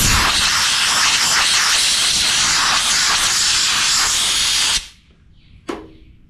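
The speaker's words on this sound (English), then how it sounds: "Take the air hose, let her dry." Compressed air hose blows a rust repair patch area dry, a loud steady hiss lasting several seconds before cutting off abruptly, followed by a short quieter burst.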